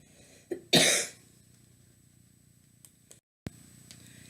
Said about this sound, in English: Sorry, didn't think you wanted to hear me cough.